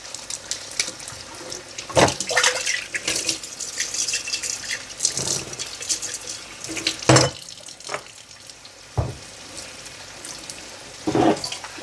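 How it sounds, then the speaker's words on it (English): Water from a rural home's tap running slowly after a cold snap that nearly froze the pipe, a continuous splashing trickle with several louder gushes and splatters, near and without talk. "The water is running slowly, but I'm just thankful that it didn't freeze."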